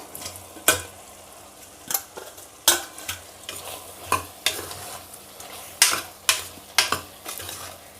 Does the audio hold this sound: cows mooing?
no